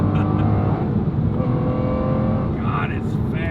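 A rare Aston Martin accelerating hard, heard from inside the car; a loud, dense engine roar rising in pitch with gear changes, with speech over it.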